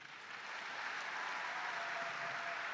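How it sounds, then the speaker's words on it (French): Audience applause fills the hall at the launch of a national solidarity campaign led by President Félix Tshisekedi, a dense, steady wash of many hands clapping that holds strong throughout without any voices. "sous vos applaudissements mérités"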